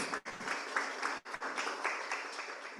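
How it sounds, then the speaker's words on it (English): Audience applause for conference presenters at a reef restoration research overview, a steady dense clapping from a room of people, loud and continuous with a couple of brief dips. "Let's do a round of applause for our amazing presenters."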